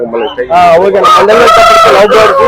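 Several chickens cluck and squawk loudly and continuously at close range at a poultry market in Nellore, with crowing-like calls overlapping in a noisy flock.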